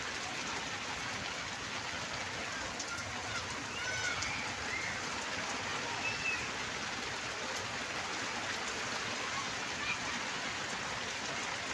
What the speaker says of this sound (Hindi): यह टाइम दुकान पर आ रही बारिश